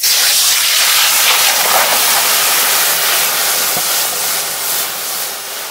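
Water goes into a hot wok for steaming fish, setting off a loud, continuous rushing hiss of steam that holds for several seconds and eases slightly toward the end.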